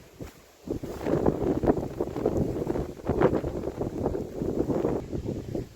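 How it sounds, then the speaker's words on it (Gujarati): Strong wind buffets the microphone in uneven rushing gusts across a farm field, loud and close, with no talking. "પવન જ એટલો હે."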